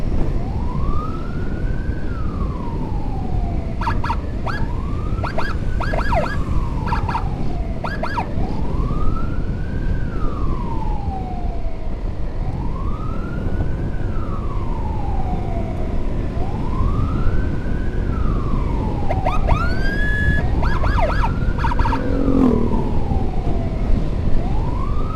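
An ambulance siren on a funeral escort carrying a body from Jakarta wails loudly in slow rising and falling sweeps, broken by clusters of sharp short yelps and horn-like bursts.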